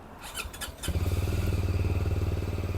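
A Lifan KPT250 or Voge 300DS motorcycle engine is started: a brief whirring crank catches and settles into a loud, steady, thumping idle close by.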